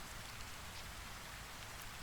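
Steady rain falling on a surface, a dense, even patter of drops with a soft hiss, faint and unbroken.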